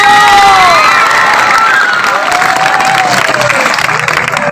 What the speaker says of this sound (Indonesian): Tepuk tangan yang meriah semua